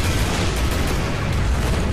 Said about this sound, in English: Alright, sniper rifle time.